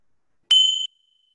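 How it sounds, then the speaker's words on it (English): A single bright chime strike rings out clearly, its metallic tone sustaining briefly before fading into silence. "And I'll just finish off with the chimes."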